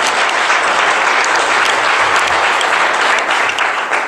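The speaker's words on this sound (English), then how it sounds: "Please give me a big round of applause." Loud, close applause from a seminar audience, a thick continuous wash of many people clapping at full strength throughout, without any voices on top.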